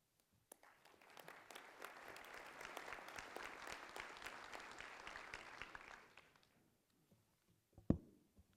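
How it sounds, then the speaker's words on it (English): Audience applause for a forensic trace evidence conference panel, a dense wash of clapping that swells for about five seconds then fades out, followed by a sharp thump near the end. "Let's give them another round of applause."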